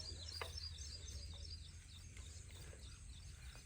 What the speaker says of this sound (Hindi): आज चिड़ियों ने बहुत ज़्यादा शोर मचाया हुआ है।